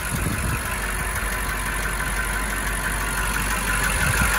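A 2020 BMW M5's 600-horsepower engine runs at a steady idle, a quiet, even low rumble with faint knocking texture and a constant hiss over it, with no other sounds.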